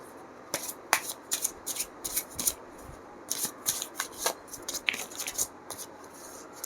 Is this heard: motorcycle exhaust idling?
no